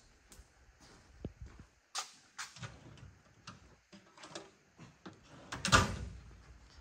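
Metal toolbox drawer being opened in a truck repair shop: a run of scattered clacks, rattles and sliding scrapes, close and fairly quiet, with a louder clatter near the end.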